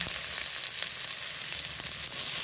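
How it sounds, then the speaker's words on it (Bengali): Chopped onion frying in hot oil with dried red chilli, bay leaf and panch phoron, giving a dense, steady close-up sizzle with faint crackles and no voices. "তেল গরম হয়ে গেছে তেলের মধ্যে দিয়ে দিলাম শুকনো লঙ্কা তেজপাতা আর পাঁচ ফোড়ন তোমরা চাইলে এলাচ গোটা এলাচও দিতে পারো দিয়ে দিলাম কেটে রাখা পেঁয়াজ"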